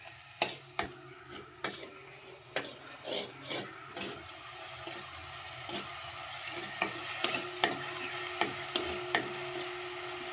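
Chickpea curry base with onion sautéing in oil in a pan over high gas, a steady soft sizzle broken by repeated sharp stirring scrapes and clicks of a spoon against the pan, close and alone.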